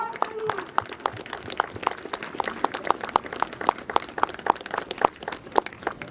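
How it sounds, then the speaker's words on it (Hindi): Applause welcoming a guest at an International Yoga Day event at a school in Greater Noida, many hands clapping in a steady, slightly uneven rhythm, moderately close, with faint voices underneath. "जोरदार तालियों से उनका स्वागत कीजिए, अभिनंदन कीजिए।"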